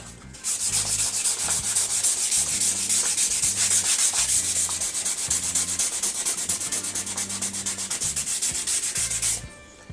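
Steady, loud rubbing of sandpaper across a dirty wooden chair board, a continuous scratchy hiss with rhythmic back-and-forth strokes running for nearly ten seconds without talk.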